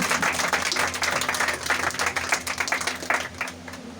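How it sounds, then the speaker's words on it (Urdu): Loud applause and clapping fill a church hall, dense and continuous for about four seconds, steady throughout with slight thinning near the end. "زوردار تالیاں ایسی بیٹی کے لیے"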